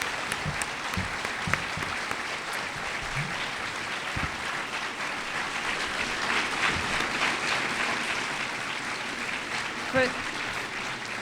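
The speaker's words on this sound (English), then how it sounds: "let's all give our panelists a round of applause." Audience at a Holocaust survivors, liberators and witnesses panel event applauds the panelists, a steady wash of clapping across the whole stretch with scattered louder claps, heard from within a large room.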